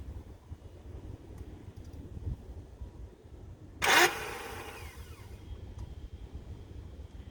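A BMW E28 starter makes one brief, loud mechanical spin-and-clunk in a failed start attempt, quickly fading against a quiet background.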